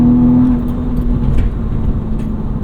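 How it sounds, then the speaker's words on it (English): A track-prepped Acura TL Type S runs with a steady, moderate engine drone heard from inside the cabin, a continuous low hum that holds at an even level without revving hard. "The engine note at least is nice and forward, not too loud, sounds decent enough."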